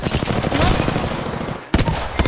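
Rapid sustained automatic gunfire in Apex Legends, loud and dense bursts that cut off briefly near the end before a few more shots resume.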